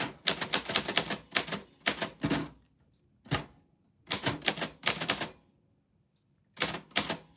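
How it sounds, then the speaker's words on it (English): A 1949 Royal Arrow portable typewriter types in quick, close bursts of clacking keystrokes, separated by short pauses of silence. "This is a typewriter. It's a Royal Arrow from 1949."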